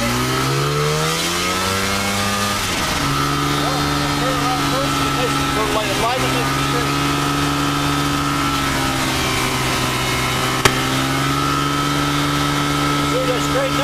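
A Kitfox amphibian floatplane's engine runs up to full throttle for takeoff, a loud steady propeller drone rising in pitch, with a voice speaking over it.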